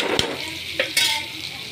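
Short session of stirring spiced eggplant and green chilli in a pan, with a few distinct scraping strokes over a soft, steady sizzle.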